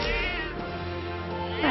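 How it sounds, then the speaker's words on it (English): A cat meows in the video game Metaphor: ReFantazio, a clear, drawn-out cry with harmonic tones over a steady soft game soundscape, ending in a rising upward inflection. "Don't usually see this kind of cat in the sea, huh?"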